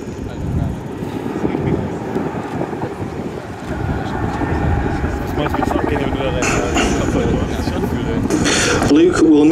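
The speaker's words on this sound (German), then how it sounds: "wie manövrierfähig dieser Hubschrauber mit seinen 25 Tonnen ist" A 25-tonne Boeing-Vertol CH-47 Chinook tandem-rotor helicopter's heavy rotor drone and engine rumble fill the air steadily at an air show, growing louder toward the end, with people talking over it.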